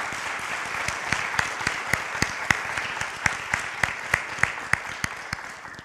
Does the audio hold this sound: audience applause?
yes